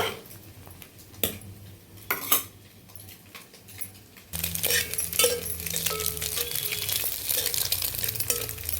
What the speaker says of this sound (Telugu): ముందు ఆయిల్ వేసి ఓన్లీ ఎగ్ వేసానండి